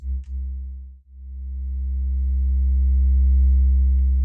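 Generated sequence from the GlitchScaper music app on an iPad: a deep, sustained synthetic drone with a steady tonal hum, briefly dipping twice near the start, then swelling and holding; no talking.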